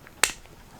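A single sharp click as a Spektrum IC5 plug connector cap snaps into place, close and crisp, with quiet surroundings before and after.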